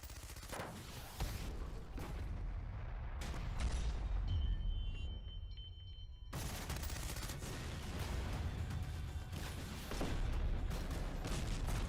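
Indian Army soldiers fire live rounds during training, with dense, continuous volleys and bursts of gunfire that briefly thin out before the heavy firing resumes.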